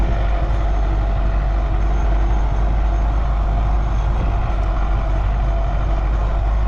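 An MTZ-82 tractor pulls away while ploughing in winter frost, a steady, loud, continuous engine roar that holds level throughout with no talk over it.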